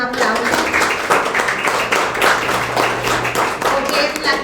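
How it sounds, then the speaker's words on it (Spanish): Audience at a legal conference on vicarious violence in Campeche applauds, a lively, full burst of many hands clapping steadily, close and fairly loud, sustained for several seconds without speech over it. "Les pido un aplauso"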